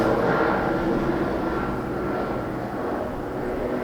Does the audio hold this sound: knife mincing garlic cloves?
no